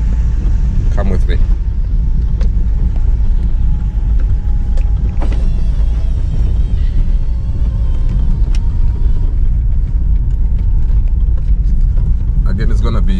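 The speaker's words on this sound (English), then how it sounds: "I'm just gonna take a simple drive on my way out" A car drives along a village road, its engine and tyres making a steady low rumble inside the cabin while a person talks over it.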